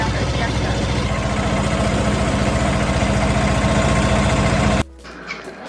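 A tractor engine runs steadily at idle on a farm, a low even throbbing that holds for nearly five seconds before cutting off abruptly, leaving quiet outdoor background.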